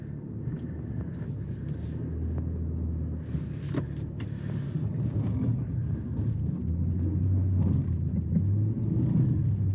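A 2022 Nissan Pathfinder in mud and ruts mode grinds through muddy ruts at the bottom of a hill, giving a steady, close engine rumble with low drivetrain drone and faint scraping and clunks throughout.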